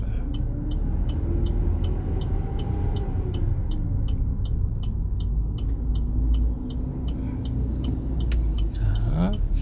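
A car pulls away on a driving-test road course, a low rumbling engine and road drone under a steady ticking indicator, with a rising whine near the end; a voice talks over part of it.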